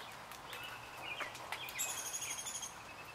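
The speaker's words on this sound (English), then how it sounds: "I think the birds like it too." Birds chirp outdoors during rain, a few thin tweets and a brief trilling call rising over a steady soft patter, faint and fairly distant.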